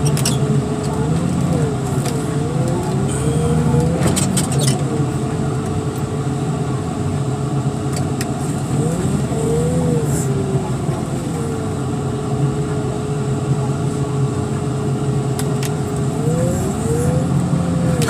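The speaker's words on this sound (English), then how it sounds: "I think that red car is a Chevy Beretta" A red Chevy Beretta drives past on a street, its engine a steady hum with rising and falling revs, under ongoing talk from nearby people.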